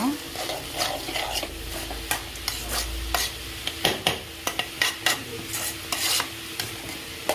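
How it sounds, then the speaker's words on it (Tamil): Cabbage poriyal with turmeric is stirred in a frying pan, a spatula scraping in uneven strokes over a soft continuous sizzle, close and without talk. "நல்லா கிண்டி விட்டுக்கோங்க."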